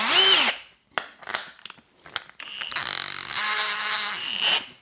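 A power tool fitted with Scotch-Brite whirs against stainless steel exhaust welds for a Yamaha XS650, starting with brief high whines and short bursts, then settling into a steady, loud grinding whine.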